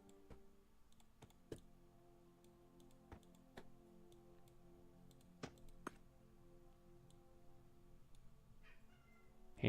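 A cat meows in a quiet room while a video game plays. Its calls are faint and spaced out over a low, steady music bed, with a few sharp ticking clicks in between.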